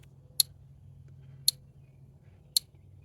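Three sharp, evenly spaced clicks from an electric fence controller with no indicator light flashing, about a second apart, over a low steady hum.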